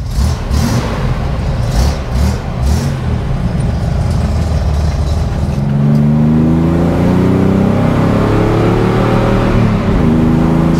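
Rebuilt Chevrolet Corvair engine with new exhaust, loud and close, revving and rumbling continuously, the pitch climbing and settling as the throttle opens.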